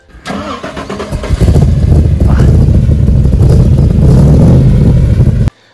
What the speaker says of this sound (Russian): основательный двигатель, то, что называется Big Block от Ford